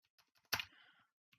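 Computer keyboard typing: a few light, sparse key taps around one louder click, very faint and close in a quiet room.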